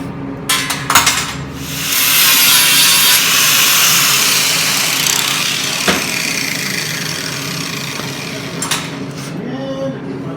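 A grinder works over a metal tool holder build, starting with a few sharp clatters before settling into a loud, sustained grinding whine for several seconds, then tapering off with more clanks at the end.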